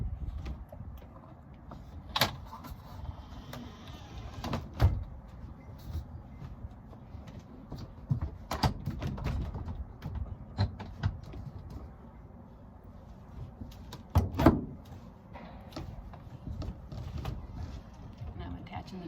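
An Aliner camper's sidewall is raised and latched at a beach RV park, giving scattered clunks and a few sharp knocks spaced over the span, with low handling rumble and faint talk in between.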